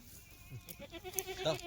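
A Kathiawari goat bleats briefly amid background chatter and farmyard noise, short and moderately close.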